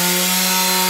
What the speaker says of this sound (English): So now it's time to sand.